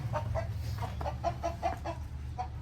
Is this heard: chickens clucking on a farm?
yes